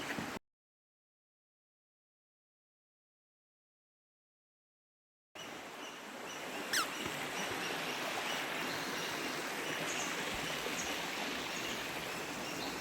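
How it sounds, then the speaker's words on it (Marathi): A babbling river beside areca groves near Asud village in Dapoli flows in a steady, soft wash after a long silent gap, with a single faint bird chirp over the water. "खळखळ वाहणारी नदी, पशुपक्ष्यांचा आवाज अगदी मन मोहून टाकतं"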